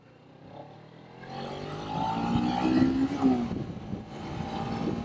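A 2015 Kawasaki Ninja 300 motorcycle engine rising in pitch as it accelerates, a growing hum with a throaty roar that swells and eases slightly, heard moderately close with no talking.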